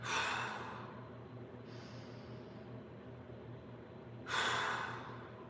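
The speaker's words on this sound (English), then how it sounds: "Take a big breath. Expand your rib cage." A deep breath fills and expands the rib cage during a mobility workout, two audible airy rushes, one at the start and another later, close and fairly soft, separated by quiet room tone.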